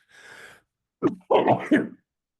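A single sharp sneeze comes after a brief breathy intake, followed by short spoken words nearby.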